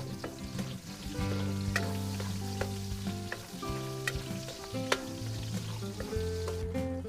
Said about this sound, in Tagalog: Nagigisa naman ang sibuyas at bawang.